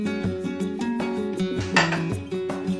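A spoon scrapes and knocks against a pot as tomato pulp with sausage stews over medium heat, clinking steadily and fairly loud over a continuous background tone.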